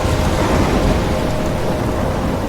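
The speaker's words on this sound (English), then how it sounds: "I'm trapped in a storm?" A thunderstorm in the game Life is Strange roars as steady, dense rain and rumbling wind, loud and unbroken, with no voices.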